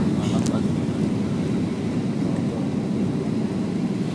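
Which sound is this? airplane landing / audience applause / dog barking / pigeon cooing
airplane landing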